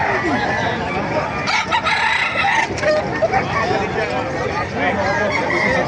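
Roosters crowing repeatedly at a busy chicken market in Bocaue, Bulacan, loud overlapping calls near and far with clucking, over crowd chatter and people talking.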